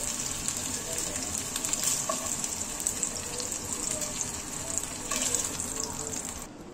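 Chicken reshmi kebabs fry in a pan with a steady, close sizzle and crackle, occasional stirring scrapes rising over the continuous hiss.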